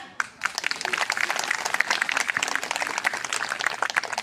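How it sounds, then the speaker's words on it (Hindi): An audience claps steadily at a school annual function, dense continuous applause that starts abruptly and carries on loud throughout, close by, with no voices over it. "तालियां।"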